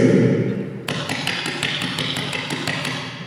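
A tabla imitates a choo-choo train with a steady run of quick, sharp strokes in a regular chugging rhythm, close and moderately loud, following a brief low drone.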